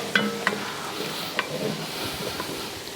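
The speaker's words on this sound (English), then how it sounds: "So we'll get this butter melted in our pan." Butter melts in a ceramic cast iron Dutch oven with a soft, steady sizzle throughout, broken by a few sharp utensil clinks against the pot.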